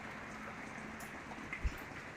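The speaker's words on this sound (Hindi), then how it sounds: "बारिश तो बहुत ज़्यादा ही तेज़ हो गई है।" Heavy rain falls in Sindh, Pakistan as a faint, steady patter and hiss of drops on surfaces, with one soft thump near the end.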